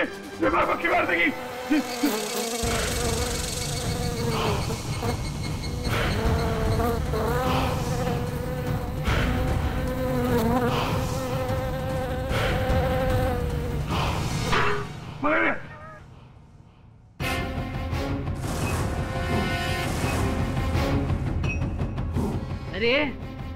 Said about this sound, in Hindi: ये मक्खी मार देगी मुझे, ये मक्खी मार देगी।